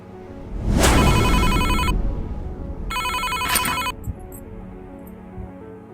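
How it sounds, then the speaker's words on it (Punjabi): A phone rings loudly nearby in two electronic bursts with a short pause between, over a low background rumble. "Raj the phone"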